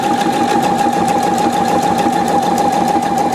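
A Pfaff 720 sewing machine stitches a zigzag buttonhole with a steady, loud mechanical whir and a fast, even pulse of needle strokes that runs without a break.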